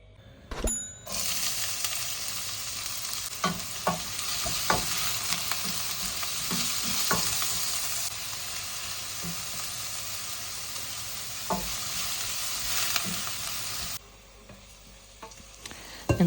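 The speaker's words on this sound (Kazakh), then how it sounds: "қызып тұрған майда қызарғанша қуырып аламыз" Chopped onion frying in hot oil in a pan, a loud, steady sizzle with intermittent clicks of stirring, lasting most of the time before cutting to quieter sizzling near the end.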